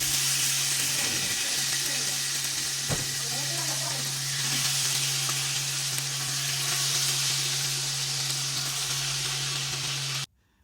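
Chicken frying in hot sunflower oil, a steady loud sizzle and hiss that runs unbroken for about ten seconds over a low electrical hum, with a few faint clinks before it cuts off.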